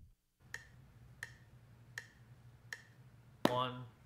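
Four evenly spaced single hand claps ring out alone in a quiet room, about one every 0.7 seconds, as part of a counting-and-clapping rhythm exercise on eighth rests, followed by a louder, brighter strike at the end.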